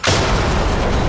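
A flashbang grenade goes off in the Ready or Not video game with a loud, sudden boom whose dense blast fills the whole short moment.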